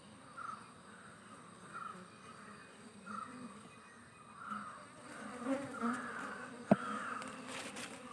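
Honey bees buzz around a hive at a beekeeping site as a comb is lifted out, a faint, steady drone swelling and fading in soft pulses, with a sharp click near the end.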